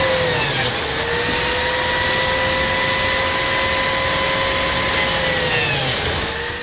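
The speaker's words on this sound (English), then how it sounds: "Now let's cut some biscuit slots." A biscuit joiner whines steadily and loudly as it cuts slots in wood, its pitch holding throughout and dipping slightly near the end as the cut finishes.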